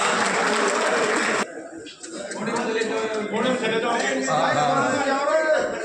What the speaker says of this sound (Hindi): साथियों जोरदार तालियों से स्वागत करें मंत्री जी का